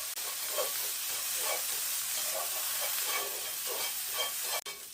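Sliced carrots stir-frying in a pan over gentle heat, a soft continuous sizzle with rhythmic scraping pulses as they are tossed, steady and fairly quiet with no talk.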